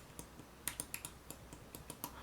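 Quick, light plastic clicks from a mute switch button on a headset, about a dozen close, crisp taps in an uneven rhythm over faint background hiss.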